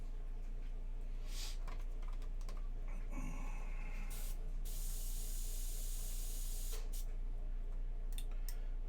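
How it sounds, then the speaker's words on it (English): Spray paint on a miniature hisses in several short bursts and one longer sustained spray, with light clicks and handling noise between. "trying to spray up at these so it gets nice and dark"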